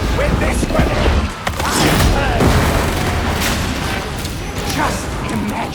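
A grenade goes off amid the grim combat of Darktide, a heavy boom rolling through a loud, dense wash of rumbling noise, with voices speaking over the din.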